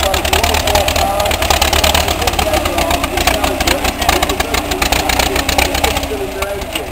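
A vintage tractor engine runs steadily at a steam and vintage rally, a continuous mid-pitched chugging drone held close and loud throughout, with people talking over it.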